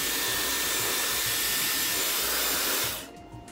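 A Dyson Airwrap smoothing brush set to high heat and high speed blows a loud, steady rush of air that cuts off near the end, leaving a faint hum.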